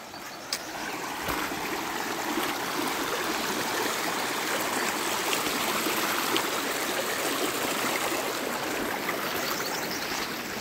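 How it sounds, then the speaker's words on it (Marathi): A small river crossed on the trek to Devkund waterfall in Maharashtra rushes and gurgles steadily and fairly loudly throughout, with no voices over it. "देवकुंड जाताना जवळपास ही छोटीशी नदी किंवा तलाव म्हणू शकतो आपण ओलांडताना"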